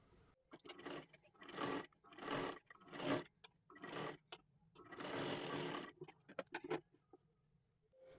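A sewing machine stitches right along the edge of a lehenga dress made from a bordered saree, running in short quiet bursts and one longer run, with brief stops in between.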